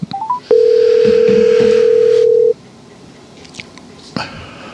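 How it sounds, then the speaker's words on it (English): A telephone placing a call: a few quick rising dial beeps, then a long steady ringback tone of about two seconds, followed by quiet line noise with faint clicks and rustles. "Let's give Dr. Ryan a call here and see what he's up to there, eh"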